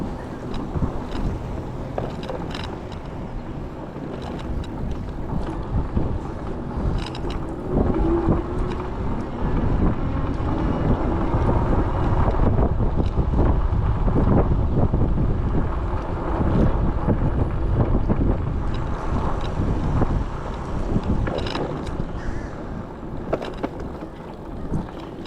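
Wind buffets the microphone throughout a dawn bike ride on a bike lane and trail in upper Pinellas. It makes a continuous loud rumbling roar that swells and eases, with no talk.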